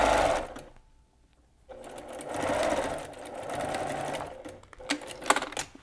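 A sewing machine backstitches across a fabric strip for a needle book, its motor running in steady bursts with a short pause in between, close and alone without talk.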